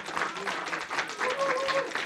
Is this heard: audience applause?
yes